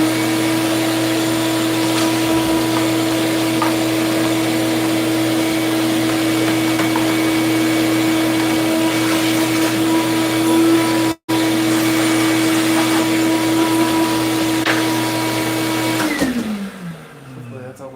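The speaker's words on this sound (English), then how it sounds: "Hopefully that's all the vacuuming I need to do." A vacuum cleaner runs loud and steady with a strong constant whine while cleaning a PS5 console, with one brief break, then winds down with a falling pitch at the end.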